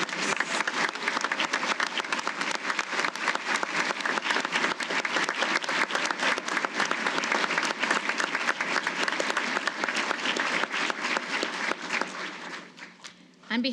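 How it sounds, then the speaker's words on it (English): Large audience at an annual employee recognition awards ceremony applauds the award winners, a dense, loud, sustained roar of clapping that tapers off near the end. "please join me in a round of applause for today's award winners"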